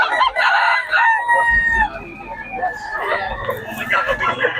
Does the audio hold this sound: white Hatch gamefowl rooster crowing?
yes